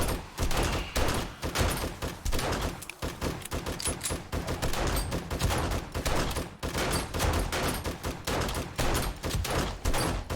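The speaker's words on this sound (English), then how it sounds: "We both have the auto shotgun." Auto shotgun fire in the video game 7 Days to Die, rapid repeated blasts in dense irregular bursts with brief pauses, loud and punchy throughout, no speech.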